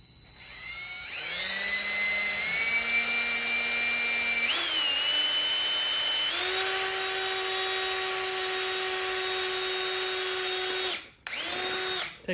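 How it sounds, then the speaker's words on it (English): A power drill bores a hole through a metal coffee can, a loud steady whine that rises in pitch as the bit speeds up, runs continuously for several seconds and stops briefly near the end before starting again. "the other way to do it is to take your drill, come to the other side of your first hole"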